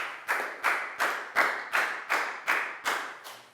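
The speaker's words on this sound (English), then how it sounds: "Big round of applause for Pat too, guys." Classroom applause during a Year 4 science lesson, heard as a series of about ten sharp, evenly spaced claps or taps, close and fairly loud, with no talking over them.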